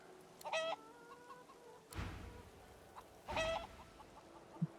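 Video game chicken clucks in three short bursts spaced a second or so apart, clear and mid-distance over a faint quiet background.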